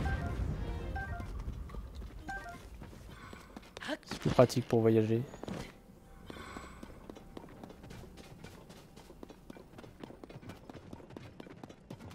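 Horse hooves clip-clop in The Legend of Zelda: Tears of the Kingdom, a quick run of hoofbeats rising loud in the middle amid game sounds, with someone talking over parts of it.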